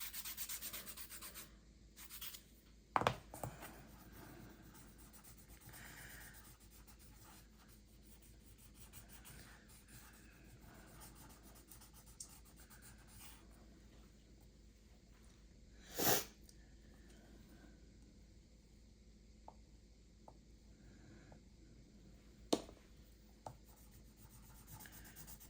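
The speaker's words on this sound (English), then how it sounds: "let me get my blending stump out. Take some color off of that and use a sandpaper." Blending stump and sandpaper rubbing oil pastel on paper, quiet close scratchy strokes continuing throughout, with a few brief louder knocks or sniffs.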